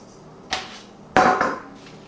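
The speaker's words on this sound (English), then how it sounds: "I'm going to put them out onto the sheet pan here" Seasoned, oiled chopped sweet potatoes tipped onto a metal sheet pan in a home kitchen: two clattering, scraping pours, the second louder and longer, with a softer tumble at the end.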